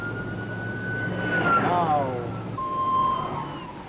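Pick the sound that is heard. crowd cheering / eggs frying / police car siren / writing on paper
police car siren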